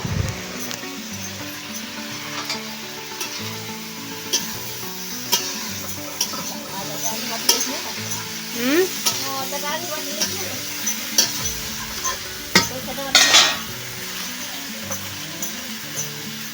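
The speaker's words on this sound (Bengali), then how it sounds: "এঁচোড়ের জন্য মাছটা ভাজছি" Steady sizzling of fish frying in a hot pan, with scrapes and stirring clatter throughout and occasional louder bursts of spitting oil.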